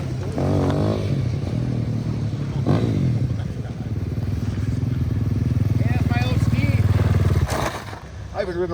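Motorcycle engine, the Duck Hawk, revving and pulling hard while ridden, a loud near rumble that swells and holds with a brief drop near the end, mixed with talk and clatter.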